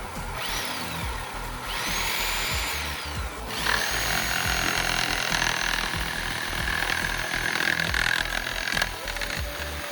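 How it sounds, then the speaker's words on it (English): An electric chainsaw runs off a 20 kW 110-220V generator. It gives several loud, sustained whining bursts with rising and falling pitch over a steady generator hum, with no talking. "Like this chainsaw"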